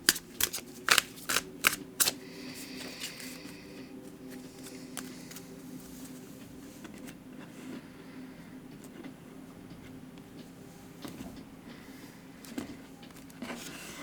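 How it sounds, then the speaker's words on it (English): Tarot cards are shuffled by hand in a quiet room, a few crisp riffling bursts at the start giving way to soft, steady sliding and tapping of the deck, with no speech. "So I'm going to go ahead and shuffle"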